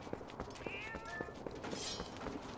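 Cats meow in the video game Twilight Princess, a few short cries rising over a busy game soundscape of footsteps and ambient effects.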